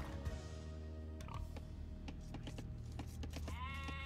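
Sheep bleat inside the Age of Empires II: Definitive Edition video game, a wavering bleat rising near the end over a bed of quiet game ambience, clicks and creaky mechanical sounds.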